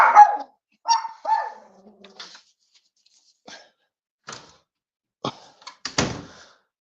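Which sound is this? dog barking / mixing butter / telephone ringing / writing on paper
dog barking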